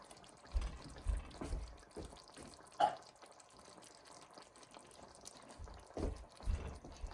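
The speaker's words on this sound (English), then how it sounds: "In goes the red dark kidney beans." Faint, scattered sloshing and soft thuds as red dark kidney beans are poured into a pot of chili con carne, a few wet splashes and plops at irregular intervals over low background.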